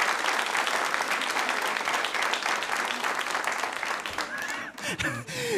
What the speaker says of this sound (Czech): aby už jste netleskali